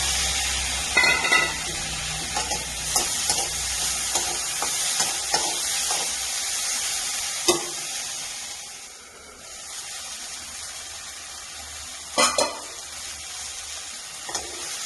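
Tomato and onion sautéing in a pan for a ladyfinger turmeric curry, a steady close sizzle with scattered clinks and scrapes of a spoon stirring, a few sharper knocks near the end.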